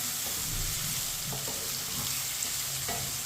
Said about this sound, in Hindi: अब 2 मिनट के लिए टमाटर को पका लेंगे चम्मच चलाते हुए